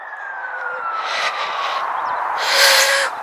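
Emergency vehicle sirens wail from a motorway near the hamlet of Loxton, a distant rising and falling tone over steady traffic rumble that grows louder toward the end.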